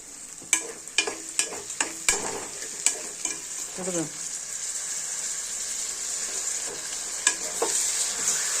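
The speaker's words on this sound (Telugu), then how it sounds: "కేమా కడిగేసాం శుభ్రంగానే ఇప్పుడు దీన్ని వేసేద్దాం ఉల్లిపాయలు మగ్గిపోయాయి" Washed minced keema goes into a pan of fried onions for a Godavari-style curry, with a run of sharp spoon taps and scrapes followed by a loud, steady hissing sizzle, close and without talk.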